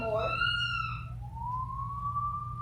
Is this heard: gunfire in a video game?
no